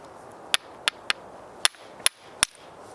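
A hammer strikes stone to knock off chunks for making sharp-edged tools, giving six sharp, separate cracking hits at uneven intervals against a quiet background.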